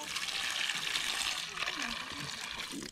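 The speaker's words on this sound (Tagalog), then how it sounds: "basahin natin ng tubig" Water poured over a freshly caught fish to wet it on a seaside shore, a steady splashing trickle running the whole time with speech over it.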